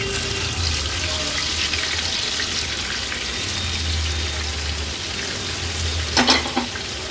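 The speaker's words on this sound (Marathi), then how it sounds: "आता एक एक करून आपण ह्या गोळीच्या तुकड्या तेलावर सोडूया।" Fish pieces, Agri-Koli style, frying one by one in about three tablespoons of hot oil in a pan, giving a steady broadband sizzle with low rumble, plus a brief clatter of utensils near the end.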